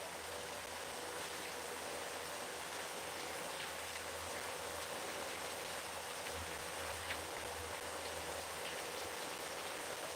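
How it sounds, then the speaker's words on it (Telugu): Steady rain falls heavily and continuously, a dense even hiss of drops with no pauses, and no voices. "వర్షం వస్తుంది కదా వాన ఫుల్ ఉంది కదా"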